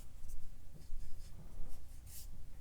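Wet blue watercolor paint brushed onto paper, a soft close scratching and swishing of bristles with a few brief louder strokes, quiet throughout and with no talking.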